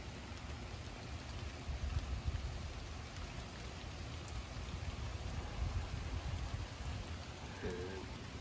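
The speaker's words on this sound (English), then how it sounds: "Still raining out." Steady rain falls outside during Tropical Storm Ian, a dense, even hiss of drops on surfaces with a low rumbling bed underneath and no voices.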